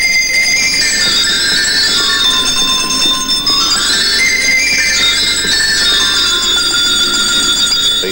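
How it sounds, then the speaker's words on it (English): Tuned sleigh bells on a Wurlitzer theatre organ jingle in bright, shimmering runs that rise and fall, loud and close, played continuously throughout. "We also have tuned sleigh bells."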